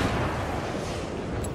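A grenade blast in the video game Battlefield 3 lands as a heavy, rumbling roar that fills the low end, sustained and dense, with a faint high beep near the end.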